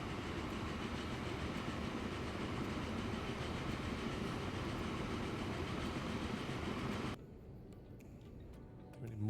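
A grain train rolls along in the city-building game Transport Fever 2, a dense continuous rumble with rhythmic clatter for several seconds before abruptly dropping to a quieter hum.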